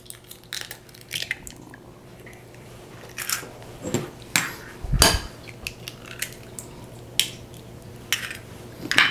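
Eggs are cracked and dropped into a mixing bowl holding ricotta for low-carb crepe batter, producing scattered sharp taps, clinks and wet plops that are close and fairly quiet, with no speech.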